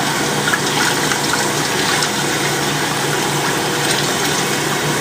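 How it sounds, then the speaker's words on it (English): Dirty water rushes steadily down a sink drain with a continuous gushing, gurgling roar, close and fairly loud, with no pauses. "And get this dirty water drained out of here."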